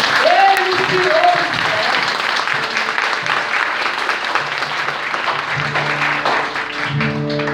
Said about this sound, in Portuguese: Então, por que você não está aplaudindo Jesus?